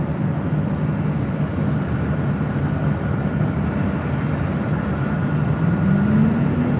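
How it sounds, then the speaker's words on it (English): A Korean Air cargo Boeing 747 touches down on runway 25 left at LAX, heard as a steady, fairly distant broadband roar of jet engines and rushing air, with a rising whine near the end. "You're hearing the Korean Air Cargo Queen touching down there on the south side on 25 left."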